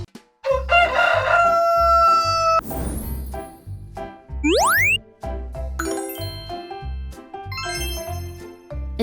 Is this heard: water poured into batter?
no